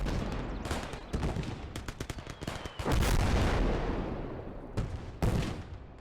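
In a World War II strategy game on the Eastern Front, a 45mm gun and other weapons fire repeatedly: sharp, loud booming shots and bursts of gunfire at irregular intervals over a rumbling battle background.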